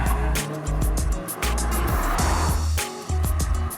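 A Mini Cooper S Clubman accelerating in a continuous surge, engine note climbing through the revs with short dips at gear changes, heard from inside the car over steady road noise, no talk.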